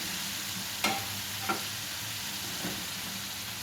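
Potatoes fry in hot oil with a steady, close hiss and fine crackle, broken by a few brief clinks of stirring.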